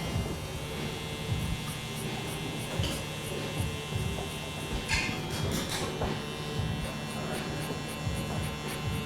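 Electric hair clippers with a 0-guard, blade fully open, hum steadily while cutting hair, a close buzzing drone with repeated short scraping strokes and soft flicks, no talking.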